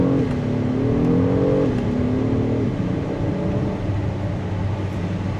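2026 Acura MDX Type S SUV accelerating hard, engine note climbing through gears with a brief shift dip, loud and close from inside the cabin, no talk.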